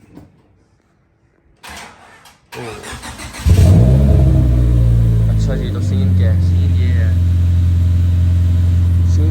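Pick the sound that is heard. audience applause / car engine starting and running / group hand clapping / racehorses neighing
car engine starting and running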